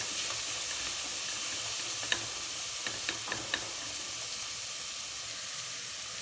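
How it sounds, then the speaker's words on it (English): Garlic paste and onions fry gently over a low flame, a soft continuous sizzle with a few light spoon taps and scrapes around the middle, close and unhurried with nobody speaking. "I'm going to stir it about a little and let it fry a little bit"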